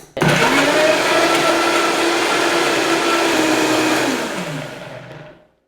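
A blender pulsing kimchi paste with starch gravy roars loudly and steadily for several seconds, then winds down and falls silent.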